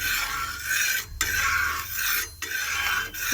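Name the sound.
stirring food in a pan with oil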